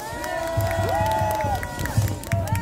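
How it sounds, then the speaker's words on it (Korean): At a Korean outdoor political gathering, a crowd claps and cheers in short bursts, moderately loud, with whistles and shouts mixed in. "다시 한번 박수해 주시기 바랍니다."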